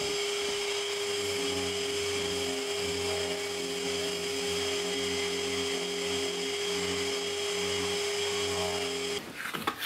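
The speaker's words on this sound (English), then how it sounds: "Now I'm just going to give them a quick sand." A power sander runs across handmade wooden crates, giving a steady, continuous whirring drone for several seconds before it winds down and stops.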